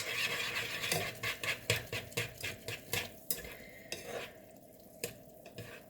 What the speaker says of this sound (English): So I'll grab these chopsticks and give those a little mix